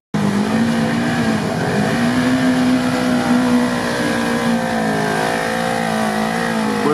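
An off-road vehicle's engine revs loudly and close by during an off-road outing, a sustained, strained drone whose pitch swells and wavers for several seconds.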